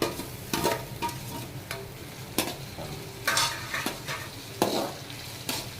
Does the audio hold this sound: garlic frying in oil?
yes